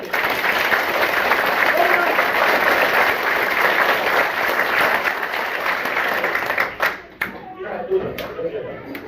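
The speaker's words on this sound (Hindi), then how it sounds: "और जोरदार ताली" Loud, sustained clapping from a school audience at an Indian village school event, dense and steady for about seven seconds before thinning into scattered claps with a few voices.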